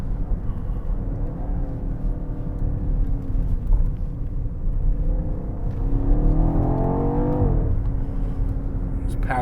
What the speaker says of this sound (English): This is such a fun vehicle to drive, whether it's on your daily commute or you get twisties like this.